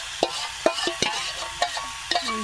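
A spoon scrapes and clacks in a pan while spices are cooked down in oil for chicken biryani, with a soft sizzle underneath and irregular, close stirring knocks.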